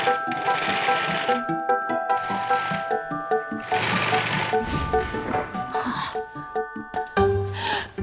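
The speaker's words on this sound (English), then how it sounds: "It's time for the back wall to be stitched." A sewing machine stitches the back wall of a bouncy castle in short, rhythmic bursts of mechanical chatter that stop and start, with faint tones and light clicks between runs.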